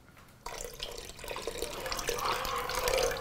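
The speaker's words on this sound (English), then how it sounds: "I'm going to add just a little bit of water." Water runs into a cooking pot, a steady pouring splash that starts abruptly and grows slightly louder, heard alone without talk.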